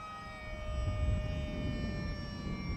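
The electric motor of an Esky Eagle RC airplane flying at 40% throttle gives a steady, thin whine with sustained tonal harmonics over outdoor wind rumble, moderately distant and even throughout.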